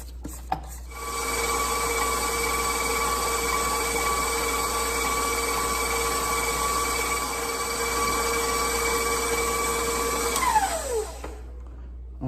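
An electric mixer whips cake batter in a bowl, a steady loud motor whine with a constant pitch that starts abruptly and winds down as it is switched off near the end.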